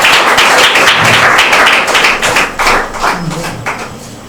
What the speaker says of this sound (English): Round of applause to our friends Satguru Maharaj